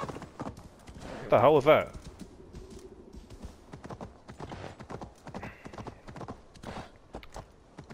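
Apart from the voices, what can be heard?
horse hooves and whinny in Assassin's Creed Valhalla video game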